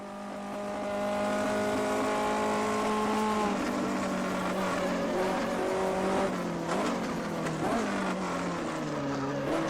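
A 1958 Formula 1 car engine in the Automobilista racing game, on the Spielberg 1974 circuit, revving hard with a rising whine and dropping in pitch through gear changes, loud and close, with no talk.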